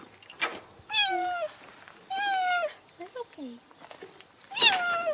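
Cheetah giving short, high, cat-like meows and chirps, several separate calls in a row, fairly close and clear with quiet gaps between them.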